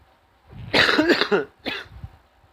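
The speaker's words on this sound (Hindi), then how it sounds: "खांसी भी बड़ी अजीब चीज़ है" A man coughs hard several times in close succession, then clears his throat with one more short cough; no talking.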